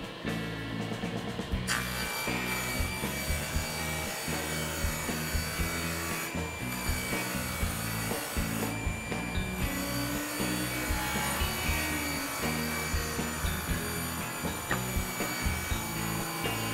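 A table saw cuts through wood for a room divider, a continuous loud whirring and grinding with a dust collector running, steady throughout with brief shifts as the blade bites.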